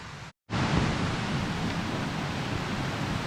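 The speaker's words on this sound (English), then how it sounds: "there's a lot of fast flowing water around at the minute" Fast-flowing water near Derwent Dam after heavy rain, a steady loud rushing hiss that starts after a brief cut of silence and continues unbroken.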